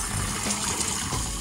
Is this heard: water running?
yes